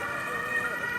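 Emergency vehicle siren wails steadily at a busy crossing in central Vienna, loud and close over city traffic noise.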